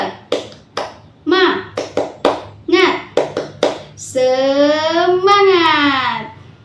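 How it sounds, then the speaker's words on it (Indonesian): A school class claps out a rhythmic spirit clap, a quick pattern of sharp, crisp handclaps that ends in a loud, sustained group shout from the children. "kita tepuk semangat dulu"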